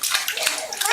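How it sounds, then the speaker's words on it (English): Young child splashing water in a bathtub, a short loud burst of splashes and sloshing with a voice mixed in. "Splashy, splashy, splashy, splashy, splashy."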